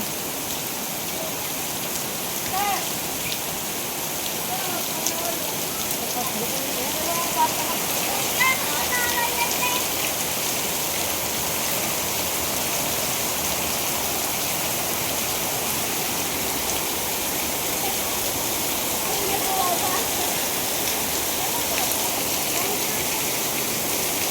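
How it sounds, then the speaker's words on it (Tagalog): Heavy rain pours down in Bohol with a loud, unbroken roar of water hitting surfaces that holds steady the whole time. "Grabe yung lakas ng ulan, guys."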